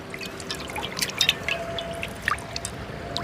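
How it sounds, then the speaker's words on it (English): River water flows past a riverside campsite, a soft, continuous trickle with scattered drips and small gurgles, close and fairly quiet, with a faint steady hum underneath and no voices. "The sound of the water is peaceful."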